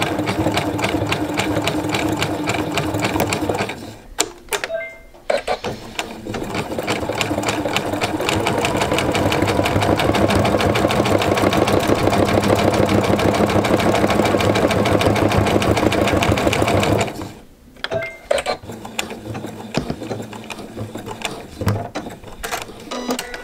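A sewing machine stitches a jelly roll fabric rope bowl in a fast, continuous mechanical whir. It stops briefly twice before resuming, with no talk.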